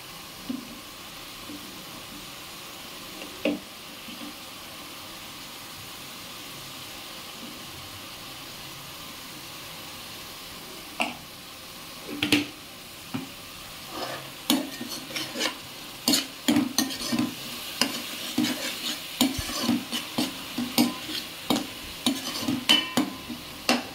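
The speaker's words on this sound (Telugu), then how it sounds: "ఆల్మోస్ట్ ఫ్రై అయిందండి ఆనియన్ పేస్ట్" Onion paste with turmeric fries in a pan under a soft, steady sizzle, while spoon scrapes and stirring clatters grow busier and more frequent through the second half.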